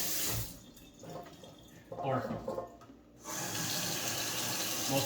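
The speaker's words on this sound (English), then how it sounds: "fill it with water" Tap water runs hard into a bucket, a loud rushing stream that stops briefly while someone speaks, then resumes and keeps pouring steadily close by.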